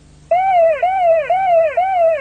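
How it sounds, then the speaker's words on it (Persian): Car warning alarm sounding because the vehicle is left in gear, a loud repeating electronic wail with four rising-and-falling cycles over a steady low hum, no talk. "آژیر میزنه، اطلاع میده که مثلا الان ماشین توی دنده هست."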